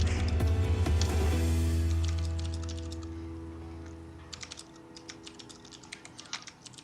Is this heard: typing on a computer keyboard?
yes